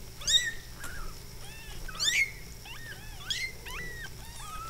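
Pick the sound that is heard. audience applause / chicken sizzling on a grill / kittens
kittens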